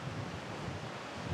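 Wind gusts across the beach and bay at Balchik in cloudy early-morning light, a continuous broadband rush and rumble that fills the short stretch without pause.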